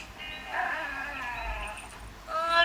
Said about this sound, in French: Il a un aboiement tout bizarre.